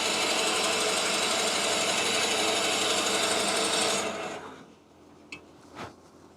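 A steady, loud grinding whir of a drill boring into wood on a lathe, turning a salt and pepper mill, for about four seconds, then it stops, leaving a couple of faint knocks.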